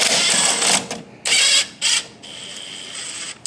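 Ratcheting wrench loosening a strut nut on a Cadillac Escalade, giving several bursts of rapid, close clicking separated by short pauses.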